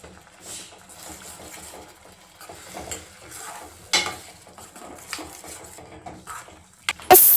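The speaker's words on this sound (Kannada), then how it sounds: "ನೀರ್ ಹಾಕಿ ಕಲಸ್ರಿ." Garam masala and pav bhaji masala being stirred with water in a pan for paneer bhurji: a utensil scrapes and clinks against metal in irregular strokes amid a soft sizzle, with a sharper knock near the end.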